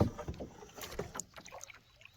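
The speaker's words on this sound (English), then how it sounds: "So I am out here on the water in a canoe." Soft splashes and paddle swishes from a small canoe on the calm water of a small pond, with light wind noise in the background.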